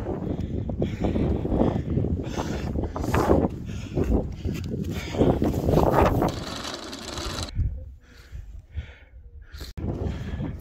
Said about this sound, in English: Bit of wind.